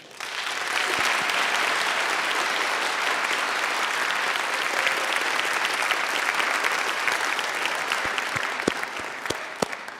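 University audience at Seton Hall applauding to welcome Slavoj Žižek, a long, loud, even wash of many hands clapping for about ten seconds, thinning toward the end into a few scattered claps.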